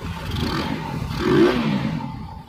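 A vehicle engine with a large aftermarket exhaust, a 32 mm part mentioned, revs up briefly to a swell near the middle and then settles, a rough mid-pitched rumble heard close by.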